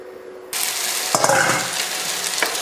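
Sliced potatoes hitting a hot pan and sizzling loudly, a sudden burst of frying that holds steady with occasional stirring clatter, close and without talk.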